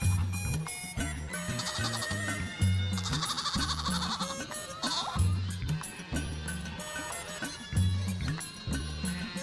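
A white billy goat bleats several times over a steady backing music bed, with repeated nasal cries rising above the loud, busy soundtrack.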